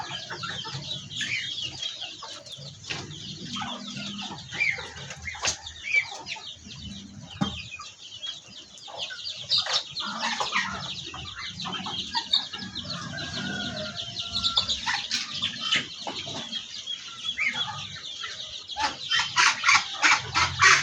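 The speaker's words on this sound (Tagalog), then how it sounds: "Manok." A flock of farm chickens clucks continuously at feeding time, with overlapping clucks and squawks near and far, some sharp calls, and occasional wing flaps.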